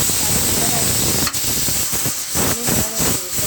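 A pressure cooker cooking beef in a spiced onion and tomato gravy vents its whistle, a loud, steady hissing jet of steam running throughout, with a few soft knocks and rattles underneath.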